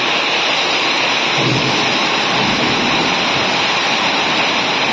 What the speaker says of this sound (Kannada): ಮಳೆ ನೋಡಿ